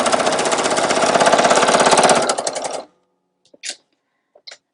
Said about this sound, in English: And I sew about 1/8 of an inch from the edge.